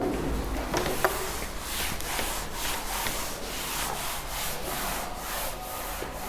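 An eraser rubs back and forth across paper to remove writing on a worksheet, producing a steady close scrubbing with repeated strokes that runs through the whole stretch without talk.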